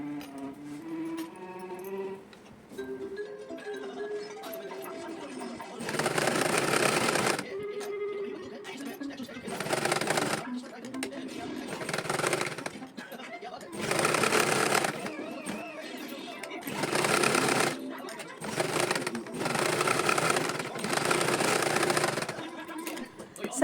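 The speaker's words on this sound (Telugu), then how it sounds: "కుట్టు అనేది వేసేసుకోండి." A sewing machine runs close by in bursts as it stitches a seam on a girl's blouse. The loud buzzing runs of stitching alternate with quieter pauses, and someone talks in between the runs.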